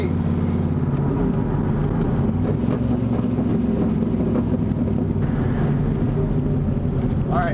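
Turbocharged Fox Body Mustang race car engine roaring loud and steady at close range, a sustained drone with harmonic layers and slight pitch shifts, ending in a rising whine.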